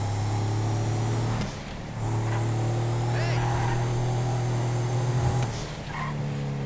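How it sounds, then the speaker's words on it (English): A steady engine drone from a Vapid Aleutian in GTA 5 Online, humming at a constant pitch with a dip and a rev back up, under someone talking. "But if you listen to the engine"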